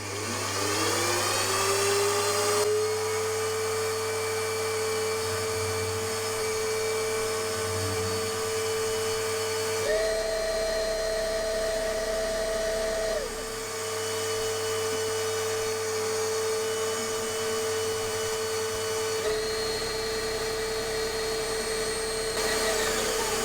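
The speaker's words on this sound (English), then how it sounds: "I'm going to use the power feed to go up and down, keep on cutting at light depths until hopefully I manage to get through" A milling machine on power feed cuts a Jerry Howell V-twin engine crankcase, giving a loud, continuous whine with steady tones that shift pitch as the feed changes, with no talking over it.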